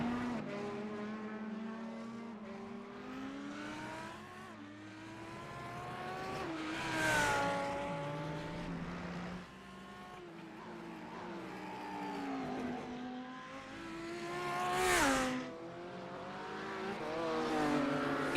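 Race cars compete in a 60-minute GT race, engines droning steadily and rising and falling as cars pass by, with two louder surges.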